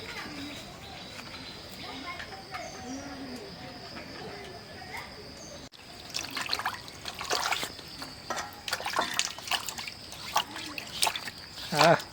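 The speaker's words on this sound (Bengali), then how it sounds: "পাটা পুটা ধুয়ে নাও সুন্দর করে।" Water trickles and splashes while a grinding stone and its roller are washed in a home kitchen, with people talking over the steady dribble and occasional birdsong in the background.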